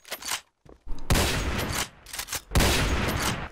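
Bursts of video game gunfire, several sharp shots and two longer rapid volleys in quick succession, loud and close with brief gaps between them.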